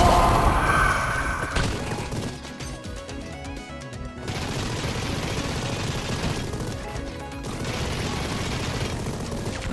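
Rapid machine gun fire from the video game Mighty Goose: sustained, loud bursts of shooting with brief pauses around the two- and six-second marks, layered over game music and effects.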